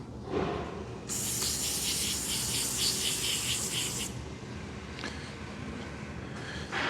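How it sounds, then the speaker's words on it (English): Brake cleaner sprayed from an aerosol can onto an engine block's oil pan sealing surface during a rebuild, one long, loud hissing burst followed by a shorter spray and rag-wiping friction noise. "it's basically rag, brake clean"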